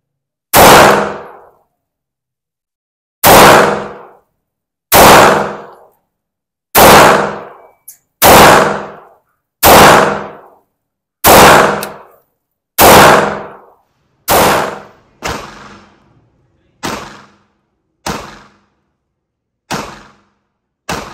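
A Springfield Armory XD pistol from the Defend Your Legacy series fires about fourteen loud, close shots at a slow, uneven pace, each a sharp crack with a short ringing decay, with no talking.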